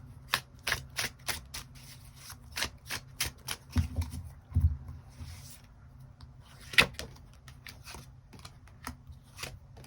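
Tarot cards are shuffled and drawn close up, a run of crisp, irregular riffling snaps and soft slaps, with a couple of duller thumps in the middle and quiet gaps between.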